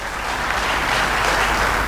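Sustained, even applause from a sizable audience, thick clapping with no pauses.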